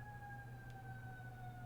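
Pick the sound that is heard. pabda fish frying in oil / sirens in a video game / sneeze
sirens in a video game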